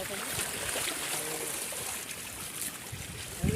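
Floodwater rushing strongly through a village, a steady loud broadband roar and churn of water filling the whole stretch, with faint voices mixed in.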